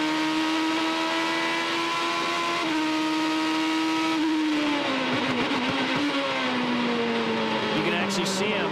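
A 2008 IndyCar race car at the Australian round brakes hard from high speed and drops down to second gear, its loud engine note stepping down in pitch through the gears while a commentator talks over it.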